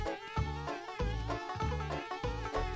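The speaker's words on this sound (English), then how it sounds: "there are some bees up here" Bees buzz steadily in the N64 video game Conker's Bad Fur Day, a near, even drone with rhythmic game music pulsing underneath.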